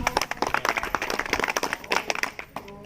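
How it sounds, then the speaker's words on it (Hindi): Short burst of audience applause at an indoor talk or seminar, many hands clapping steadily and fairly close for nearly three seconds before tapering off. "एक बार जोरदार तालियां हो जाए।"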